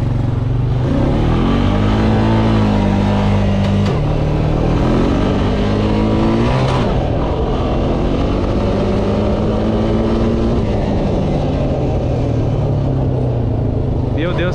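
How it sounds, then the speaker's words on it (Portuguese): Traffic on a main city avenue beside a dirt road and empty lots, with engines droning and shifting pitch as vehicles pass up close, loud and continuous throughout. "Aí como passa carro aqui."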